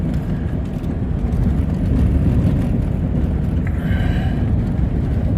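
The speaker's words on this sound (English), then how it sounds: "I just had to rev it up until she kicked in again, because she was in neutral." Engine of a 1993 Chevy 4x4 pickup revving while in neutral, a loud, steady low rumble heard from inside the cab with a faint whine rising partway through.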